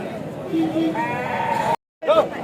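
A male goat bleats several times close by at a weekly sheep and goat market in Kadiri, a wavering nasal call, briefly cut off and then resuming louder.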